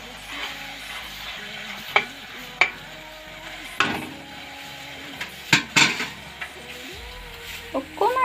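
A spatula scrapes and knocks against a pan of frying taro and tomato bhaji, with irregular clanks and scrapes over a soft background sizzle, close by and fairly clear.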